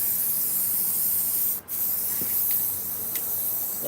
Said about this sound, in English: Then you got to spray on the inside.